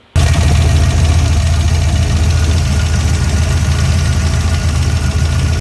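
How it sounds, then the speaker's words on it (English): A damaged car engine idles loud and close with a steady low rumble and a continuous fine ticking running through it, unbroken from start to finish with no voices. "So I have a little video of the ticking I'll play here."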